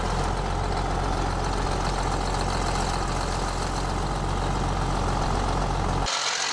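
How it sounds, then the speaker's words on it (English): A D8 bulldozer's heavy diesel engine runs steadily and loudly at a constant rumble while its blade lifts the machine, then the sound drops away abruptly near the end. "And now I'm gonna use the blade to lift the entire Dozer to make sure the tracks aren't stuck to the ground."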